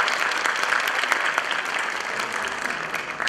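Dense, even audience applause at a university piano and flute recital, many hands clapping continuously and close, with no break across the whole stretch.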